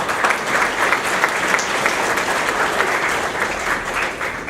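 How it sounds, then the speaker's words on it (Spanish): An audience at a lecture on cost strategies applauds a speaker, with steady, dense clapping from many people filling the room evenly throughout. "Démosle un aplauso para él."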